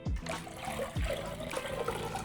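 Water pours into a saucepan to start a pickling brine, a close, steady splashing flow with two sharp thuds as it begins, quiet overall.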